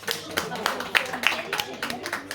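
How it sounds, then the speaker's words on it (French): An audience in a small tearoom bookshop at a literary afternoon event claps for a woman being honoured, a short patter of applause close by, partly under a person speaking French. "donc encore une fois vous pouvez l'applaudir"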